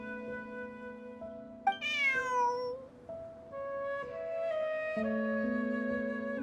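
A cat meowing in Genshin Impact: a clear rising-and-falling meow stands out near the middle, set against steady sustained musical tones that continue throughout.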